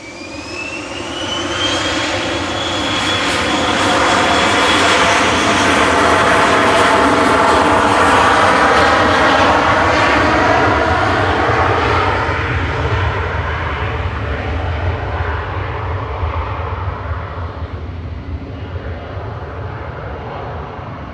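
SAS flight 540 makes an emergency landing at Manchester Airport, its jet engines building to a loud, sustained roar that lingers as a steady rumble while the aircraft passes and slowly fades.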